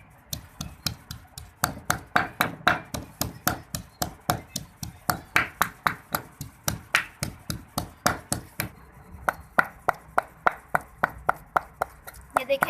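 Green chillies ground by hand for mint chutney, heard as steady, close pounding strikes of roughly three per second that continue throughout, with no one speaking.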